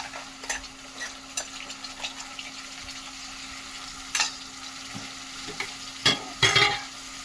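Onion and green chilli frying with masala for a snail curry, a steady sizzle in the pan broken by several sharp scraping stirs, loudest near the end.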